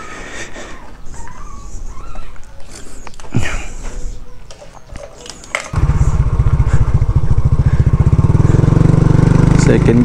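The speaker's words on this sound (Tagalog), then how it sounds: "pipihitin natin ng konti na medyo mabilis yung ating throttle, isasabay natin sa pagda-downshift" A semi-automatic motorcycle engine idles unevenly and then, about halfway through, revs hard and holds a loud, steady drone during a rev-matched downshift, with a brief sharp knock just before the rise.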